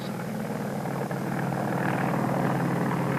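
A 1960s helicopter flies while a crew sets electric power line poles, its steady loud droning rotor and engine roar continuing unbroken with a low hum beneath.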